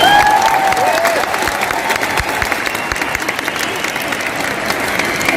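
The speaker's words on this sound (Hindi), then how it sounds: "4-5 लोग ताली बजा रहे हो आपके यहाँ तो" Loud audience applause at an anniversary event in an indoor venue, dense continuous clapping with a little cheering mixed in and a brief whistle-like tone at the start, close and steady throughout.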